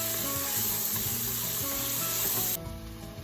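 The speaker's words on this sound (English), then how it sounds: "We're going to be sauteing those and those spices for about another 2 minutes" Chili powder, cumin and smoked paprika sautéing in a pot give a steady, close sizzle with light scraping of a utensil, dropping slightly quieter near the end, and no one speaking.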